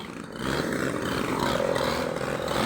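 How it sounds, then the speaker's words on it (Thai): A grass trimmer engine buzzes steadily nearby during village cleanup work, a continuous moderately loud drone that swells slightly after the first half second, with no voices over it. "เครื่องตัดหญ้าเขามีตอนนี้"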